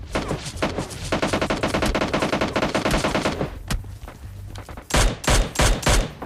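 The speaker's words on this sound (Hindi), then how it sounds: "इस बंदे ने एकदम से स्कारल चली, मैं डर गया भाई" Rapid automatic SCAR-L rifle bursts in the mobile shooter PUBG Lite, loud and dense. Sustained fire runs for several seconds, then comes a brief lull and a few more heavy bursts close by, with no voices.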